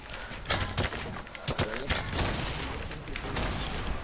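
Rapid bursts of gunfire ring out during a Fortnite match, several sharp shots clustered together over a busy game-sound backdrop, with a player talking faintly at times.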